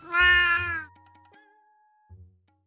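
A cat lets out one loud, drawn-out meow close by, followed by faint fading tones and a brief low sound near the end.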